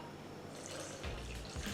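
Water runs from a tap into cashew cheese sauce, a steady close trickle that swells into a fuller pour toward the end, with no talking.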